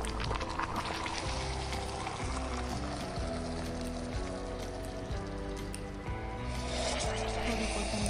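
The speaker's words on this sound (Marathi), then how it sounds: "तर आता त्यात आपले धुतलेले तांदूळ आपण टाकून घेऊ." Washed rice is tipped into boiling water with dal for khichdi, a continuous close splashing pour that runs for several seconds.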